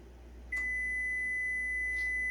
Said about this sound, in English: There went our timer.